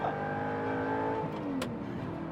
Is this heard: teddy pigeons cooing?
no